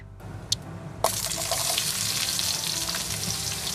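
Chopped onion dropped into hot oil for an okra dish: a sudden loud, steady sizzle starts about a second in after a quiet moment with a small clink, then holds strong and close without any voices.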